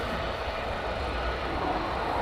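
A military jet, an F-15 or F-35 at RAF Lakenheath, roars overhead at night as a broad, steady rumble with no breaks.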